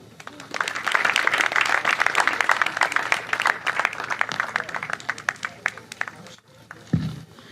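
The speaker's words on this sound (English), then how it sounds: "Please, a round of applause for the latest, the best, the most wonderful students of the Nigerian British University," Sustained audience applause at a Nigerian British University matriculation ceremony, a dense wash of many hands clapping throughout, with crowd noise and a brief dip near the end.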